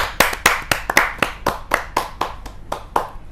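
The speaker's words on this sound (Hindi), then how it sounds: "जोरदार तालियों के साथ" Applause at a Hindi kavi sammelan poetry gathering, heard as a close, loud run of about a dozen sharp, evenly spaced hand claps with no talk.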